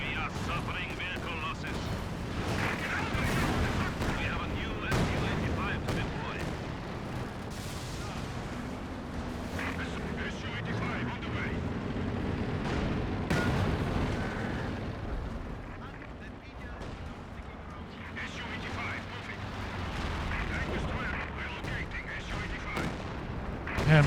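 Tank cannons in a World of Tanks-style video game fire as repeated heavy booms and gunfire cracks through a dense, continuous battle din, with players talking over the action throughout.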